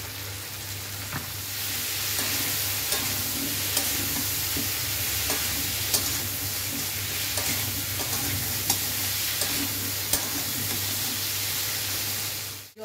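Hilsa fish heads fry with pumpkin and a pinch of sugar in a pan, giving a steady, close sizzle with light hiss and occasional spatula clicks and scrapes throughout.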